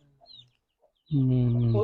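A chicken clucks in a loud, close, drawn-out call after a mostly quiet stretch with faint soft sounds.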